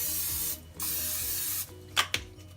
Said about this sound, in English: I take my vegetable oil